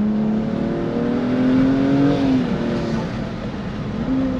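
A 550 hp BMW M235i accelerating hard at high speed with its wheels spinning, the engine droning loud and close in a steadily rising tone that dips briefly before climbing again.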